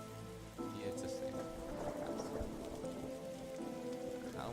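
Steady rain falling in the Darkside Detective video game, a continuous wash of patter on a surface that fills the whole stretch alongside a low ambient music bed.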